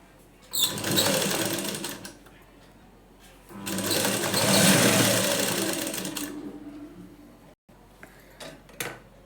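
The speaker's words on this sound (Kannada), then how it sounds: "ನಾನು ಒಂದೊಂದನ್ನೇ ಸ್ಟಿಚ್ ಮಾಡೋದು ತೋರಿಸ್ತೇನೆ." A sewing machine stitches the front part of a plain blouse in two loud, close runs of rapid needle whirring separated by a pause, then a few brief handling clicks.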